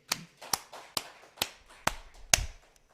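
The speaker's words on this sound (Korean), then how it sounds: "우리 주님에게 영광의 박수 드릴까요?" A church congregation at a Korean Presbyterian Sunday service claps together in a steady beat, about six sharp, evenly spaced claps over a few seconds, with no talking.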